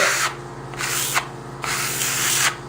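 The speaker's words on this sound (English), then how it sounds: "Is that the burnishing there? Yeah, that's burnishing." A trowel burnishes and compresses a clay plaster wall, giving repeated broad rubbing strokes, about four close scraping sweeps with brief gaps between them and no talk.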